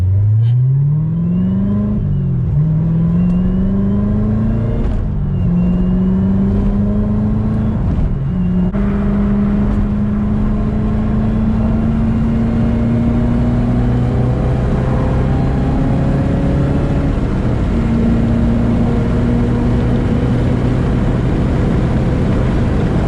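A Corvette Z06 with a manual transmission accelerates hard, its engine note climbing through several gears with brief dips at each shift, then settling into a steady loud drone close to the microphone.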